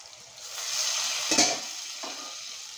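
Masala with dried little prawns sautéing in oil in a pan, a soft continuous sizzle swelling briefly around a stirring scrape, close and fairly quiet, no talking.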